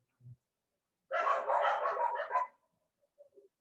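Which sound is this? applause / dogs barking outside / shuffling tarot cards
dogs barking outside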